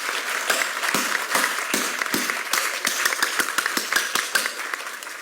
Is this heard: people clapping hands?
yes